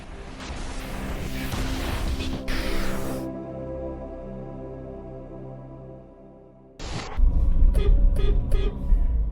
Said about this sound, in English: That's the horn sound.